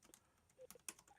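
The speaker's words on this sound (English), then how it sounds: "I'm typing and I can't type and talk at the same time." Keys tapped on a computer keyboard in short irregular bursts, fairly quiet and close, with a few louder clacks toward the end.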